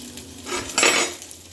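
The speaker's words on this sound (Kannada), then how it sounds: "ಹೀಗೆ ಬಾಡಿಸಿ ಹಾಗೆ ಬ್ರೌನ್ ಆಗೋ ತನಕ ನೀವು ಬಾಡಿಸ್ಕೋಬೇಕಾಗತ್ತೆ." Hyacinth beans (avarekalu) sautéed with salt in a pan give a short metallic scrape and clink of a spatula stirring them, with a soft sizzle underneath.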